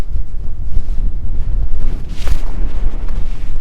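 Gusty desert wind buffets the microphone near a cholla cactus garden, a loud rumbling, fluttering roar with uneven surges and no voices.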